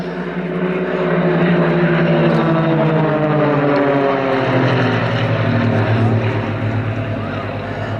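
An Extra 300 aerobatic aircraft from the Global Stars display team drones loudly in a sustained propeller roar at an air show, its pitch sliding as it passes, with a commentator talking over it.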